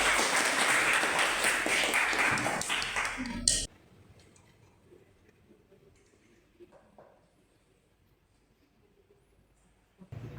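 A classroom of students applauds a student presenter with a burst of mixed clapping that stops abruptly, leaving a quiet room with faint small taps and a brief sound at the end.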